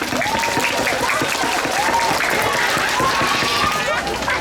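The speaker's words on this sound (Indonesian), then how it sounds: "Sambil tepuk tangan semuanya." Applause from a Sunday school Easter celebration congregation, continuous clapping with a busy background of children and other voices, steady and fairly loud throughout.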